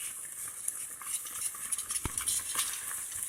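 Churro dough is stirred in a pot, giving a soft, close, continuous scraping and squelching with one sharper knock midway, all fairly quiet.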